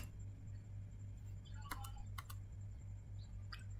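Computer keyboard keys are tapped in a few brief clusters of clicks against a steady low electrical hum, the keystrokes quiet and close, with gaps between the short runs of typing.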